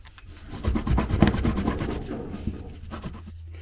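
Rough rasping strokes of grinding down the edges of a plastic window mount for a DJI Pocket 2 camera, a continuous scraping run that builds and then tapers off into short scratches.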